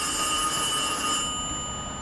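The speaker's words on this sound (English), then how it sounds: "rudely interrupted by the phone" A telephone rings steadily at close range, a sustained electronic bell tone with bright high partials that rings on without pause and softens slightly toward the end, with no talking over it.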